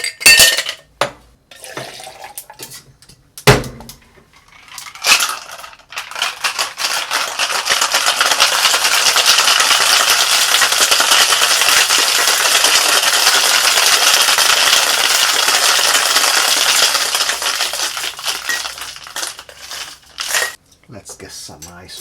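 Cocktail shaker holding a Fosbury Flip with egg yolk is shaken hard for about twelve seconds, a dense steady rattle of ice, with brief knocks and speech before and after.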